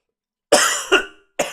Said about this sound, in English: I guess I'm going to start coughing